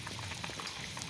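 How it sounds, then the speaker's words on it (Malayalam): Fish curry bubbles in a pot, a dense steady simmer of popping bubbles, close and continuous with no voices. "നല്ല നമ്മളെ കറി തിളച്ചിട്ടുണ്ട്"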